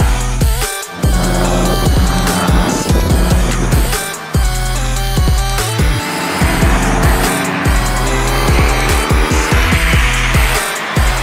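Race cars launching at the start of a race at Magny-Cours, with loud roaring engines revving and shifting through gears in rapid overlapping bursts, several cars close by at once.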